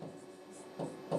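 Chalk or marker writing on a board during a Hindi science lesson on flower parts, quiet scratchy strokes with two short louder bursts near the end, faint voice in the background.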